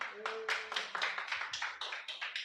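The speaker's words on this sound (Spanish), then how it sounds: "Un aplauso, por favor." A church congregation claps in a loose rhythm, distinct hand claps repeating at an even pace, moderately close and without talk over them.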